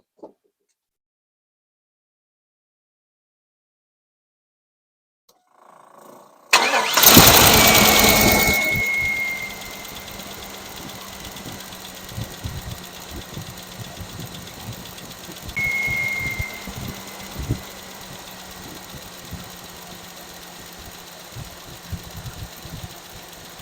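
A one-ton crew cab long box dually truck engine, noted as having a possible collapsed lifter, cranks and catches after a quiet start, then settles into a steady close idle with a faint rhythmic tick.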